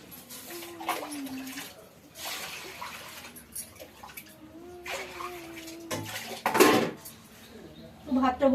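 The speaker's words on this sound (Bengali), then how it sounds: "ভাতটা বসিয়ে দিলাম, রেডি হয়ে যাচ্ছে।" A pot of rice is set on to cook in a home kitchen: metal pot and utensils clank, water sloshes and lids clatter in short bursts, with a voice talking in between.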